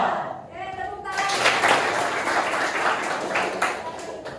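A group claps hands together after a chant, starting with a brief voiced tail, then a full, lively burst of clapping that swells and holds steady to the end.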